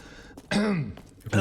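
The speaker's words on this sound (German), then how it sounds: "Dieser Husten." A game character in Arctic Awakening gives a sick, phlegmy cough and throat clearing in a few harsh, voiced bursts, close and fairly loud.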